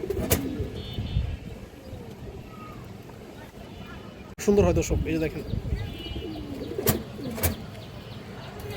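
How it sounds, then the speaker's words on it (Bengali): A silver male pigeon coos in bursts among other pigeons at a seller's home loft, someone talking over it in Bengali while a sharp clatter breaks in midway. "খুবই সুন্দর একটা সিলভার নর কবুতর"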